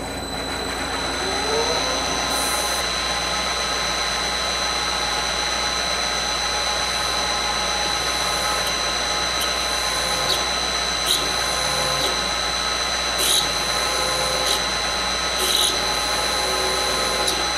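A carbide bit drilling pin wrench holes around the diameter of a workpiece on a machine tool, a steady high whine over a continuous motor hum, broken by a few short sharp bursts of cutting noise, close and loud.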